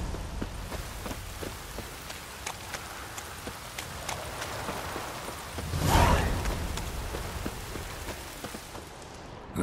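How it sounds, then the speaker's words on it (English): Rain in The Witcher 3 falls as a steady patter while a horse's hooves clip-clop in an even rhythm, with a louder swell of noise midway. "Looks like rain."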